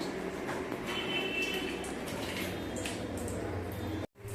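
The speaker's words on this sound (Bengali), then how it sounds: "ভালো করে দেখো জল পড়ছে" Water is poured over animals during a bath, a close, continuous splashing and wet gushing that runs steadily and then cuts off abruptly near the end.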